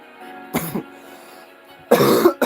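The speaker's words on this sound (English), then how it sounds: "Okay, now I'm actually coughing from that." Two short bursts of harsh coughing and throat clearing, close and fairly loud, separated by a quiet pause.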